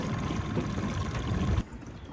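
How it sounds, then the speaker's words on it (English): Fresh water pours and splashes steadily around a sailboat engine during a flush, then cuts off abruptly, leaving quiet background hiss. "I'm gonna freshwater flush this engine"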